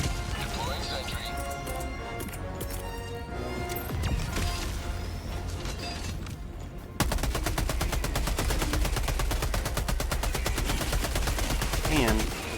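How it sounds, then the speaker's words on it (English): Rapid submachine gun fire in the video game Helldivers 2 against Illuminate enemies, steady sustained bursts dominating the second half over game effects and battle noise, with someone talking over it. "the sound of this SMG is fantastic"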